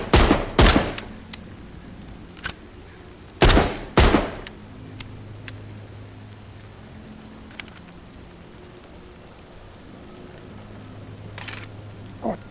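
Several loud gunshots from a gun in The Walking Dead: Saints & Sinners, fired as a close pair near the start and another heavy pair a few seconds later, with lighter clicks and thuds between them and a low steady hum underneath.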